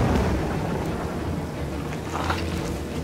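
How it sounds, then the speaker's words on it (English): Thunderstorm during an outdoor treasure hunt in New York, with a continuous low rumble of thunder and steady rain hissing throughout, loud and close, with no talk. "Got lightning strikes."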